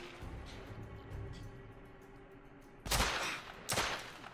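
Two loud, sharp bursts of gunfire ring out close by in The Order: 1886, one near the three-second mark and another moments later, over a low ambient rumble.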